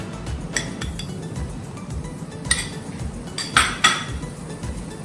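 Spoon or spatula scraping and clinking in a pan as Cajun-spiced vegetable stuffing is stirred, a few sharper metallic knocks standing out over a steady low rustle.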